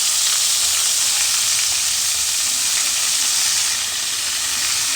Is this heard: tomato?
yes